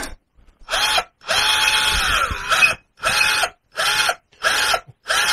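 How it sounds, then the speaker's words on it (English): Power drill biting into a car's front dash panel, a loud whining buzz in six separate bursts of roughly half a second to a second and a half each, with short silent gaps between them and no voices. "Drilling through it, but it's I need the more powerful drill"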